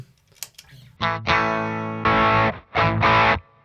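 An MXR Sugar Drive overdrive pedal with volume turned down and drive turned all the way up, giving distorted electric guitar chords in several sustained bursts with short pauses between them, after a few faint plucks.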